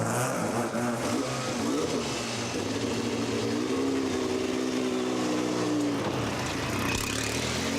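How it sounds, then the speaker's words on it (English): A 630 brake horsepower turbocharged Porsche 956 race car engine on a track during qualifying, a loud continuous roar with rising and falling revs as it passes, blended with crowd and ambient noise throughout. "A more serious-looking Jackie Ickx decides to go out again in the 630 brake horsepower turbo car to reduce his time."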